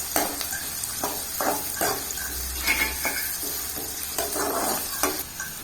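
Small chopped onions sautéing in a pan for Tamil-style chicken gravy, with steady close sizzling and several distinct stirring scrapes of a spoon against the pan, with no talking.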